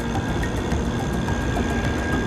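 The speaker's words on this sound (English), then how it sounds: "Train crossing here is obviously busy." A train rumbles past close by with a continuous heavy roar and faint rhythmic clatter of wheels over the tracks.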